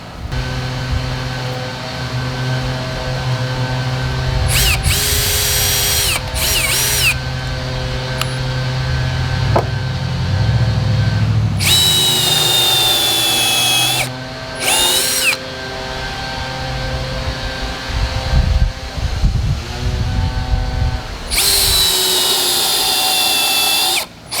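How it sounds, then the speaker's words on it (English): A power drill bores counter holes into the wooden frame of a queen-sized loft bed, running in several loud whining bursts of a few seconds each, separated by short pauses, with a steady hum underneath. "I'm gonna drill some counter holes to prepare to have the screws go in"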